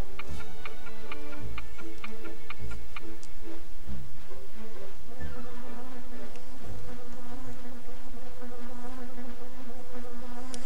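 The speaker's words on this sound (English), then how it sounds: "How far out do these bees go?" Bees buzz loudly and continuously in The Grinch video game, a dense swarming drone layered with ticking game sounds and no talking.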